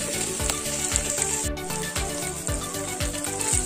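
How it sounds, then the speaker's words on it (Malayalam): Onions and spices sautéing over a raised flame in a clay pot for a Kerala fish curry, a loud, continuous sizzle with a rhythmic repeated scraping of a spoon stirring through it. "ഇനി നമുക്ക് ശകലം ഫ്ലെയിം കൂട്ടി വെച്ച് ഇതൊന്ന് വഴറ്റിയെടുക്കാം."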